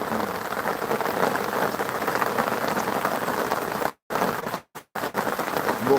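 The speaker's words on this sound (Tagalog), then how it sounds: "Malakas mo ulan." Heavy rain pours down steadily and loudly on a surface, a dense continuous hiss broken by a few brief silent dropouts near the end.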